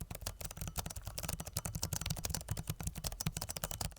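Fast typing on a Cherry MX mechanical keyboard of an Alienware laptop, a dense continuous stream of close, crisp key clicks with a faint ringing undertone.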